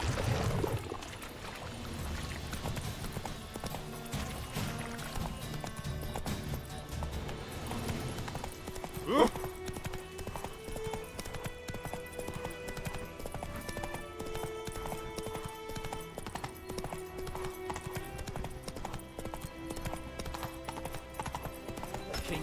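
Horse Roach galloping in The Witcher 3: Wild Hunt, a steady rapid drum of hooves running on under game music, with a brief sharp sound partway through.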